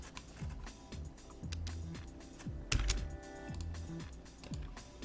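Computer keyboard clicking steadily as a command is typed in drafting software, a string of light, quick, close keystrokes at moderate volume with one slightly heavier tap midway.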